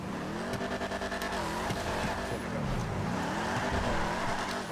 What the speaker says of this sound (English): This is quite a cool muscle car actually.